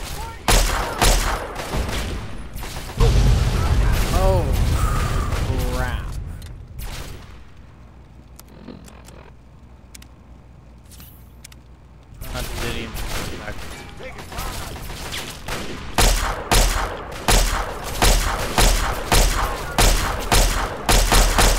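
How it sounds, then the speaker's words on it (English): Rapid bursts of laser pistol fire in Fallout 3, dense repeated zaps and mechanical clatter during the first few seconds and again in the later half, with a quieter lull in between. "Let's try this laser pistol."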